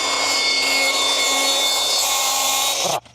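A Milwaukee track saw with its blade set deeper cuts through large timber, a loud continuous whining roar that holds steady for about three seconds before cutting off abruptly.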